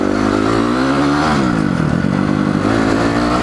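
A motorcycle engine runs loud and close throughout while the rider shifts down toward neutral, the steady harmonic drone dipping and wavering in pitch mid-clip, with a faint clattery edge.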